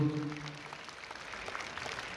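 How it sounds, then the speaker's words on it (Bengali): Applause from an audience at a Teacher's Day award ceremony honouring recipients: steady, dense clapping that follows a brief voice at the start and holds at an even level throughout. "আমরা সকলের কাছে আরো একবার করতালি প্রার্থনা করব"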